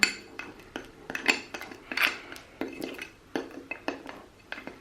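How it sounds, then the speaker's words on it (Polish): Slime being stirred in a container with an added ingredient, a run of quick clinking, tapping and scraping strokes at an irregular rhythm, close and fairly quiet, no talking. "Zabieram koreczek na bok i mieszam tutaj."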